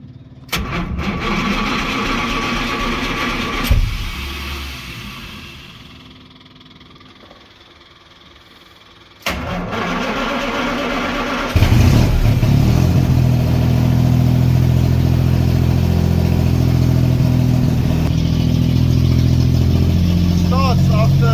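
A truck engine in a garage cranks and catches after sitting for a couple of weeks, then settles into a loud, steady running rumble that continues to the end, following a quieter stretch and a brief earlier burst.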